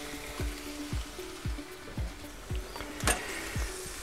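Onions and bell peppers cook in an OptiGrill contact grill with a soft sizzle, while regular clicking taps repeat about twice per second.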